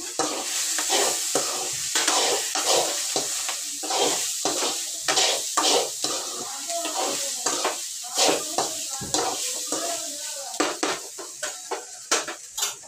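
Ivy gourd (dondakaya) fries in oil in a pan under a constant hiss, while a utensil stirs and scrapes against the metal in a rapid, repeated clatter.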